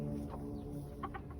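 Hens clucking softly inside a hen house, a few low murmured clucks over a constant hum, faint and close.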